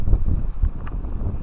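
Gusty wind buffeting an outdoor microphone on a very windy day, a steady low, rumbling roar with slight fluctuations and no talking.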